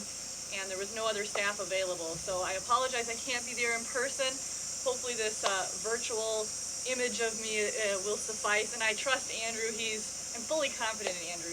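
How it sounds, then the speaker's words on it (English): Cicadas in a backyard buzz loudly in a constant high-pitched drone that runs beneath someone speaking throughout. "I apologize if you hear the cicadas in the background."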